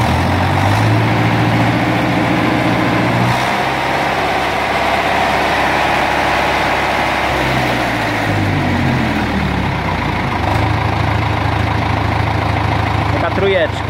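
A nearby Ursus C4011 tractor's damaged diesel engine roars continuously, its pitch rising and falling as it revs up, eases off, then revs again.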